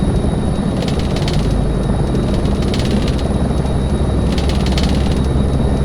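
Steady, loud helicopter engine and rotor drone from a desktop helicopter simulator during takeoff, a continuous dense roar with a faint rhythmic pulsing and no talking.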